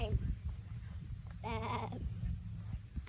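A goat bleats in a wavering call near the middle of the moment, outdoors at a historic plantation, with someone talking before and after and low background rumble throughout.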